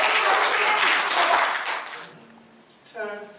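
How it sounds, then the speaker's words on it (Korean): An audience at a public talk on electricity prices and nuclear power breaks into loud, dense applause that rolls on for about two seconds, then dies away before a voice resumes. "다시 한번 우리 젊은이들에게 큰 박수 보내주시기 바랍니다."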